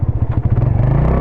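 A motorcycle engine strains up a steep, rocky, slippery slope, its close, loud, rapid pulsing thump steadying into a labored drone.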